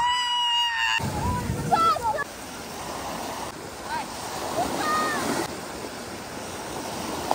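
Sea waves wash onto a beach at a Turkish seaside resort, a steady broad surf noise after a brief opening tone, with softer swells rising and falling and no talk.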